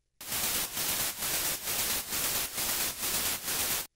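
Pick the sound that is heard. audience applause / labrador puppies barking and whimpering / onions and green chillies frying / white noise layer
white noise layer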